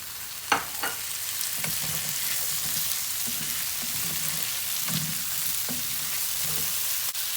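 Tomato frying in a pan for Turkish rice pilaf gives a steady close sizzle, with a few soft scraping stirs and a couple of light clinks early on.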